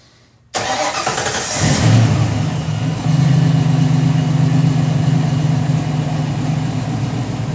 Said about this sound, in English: Now I'm going to have my assistant start the vehicle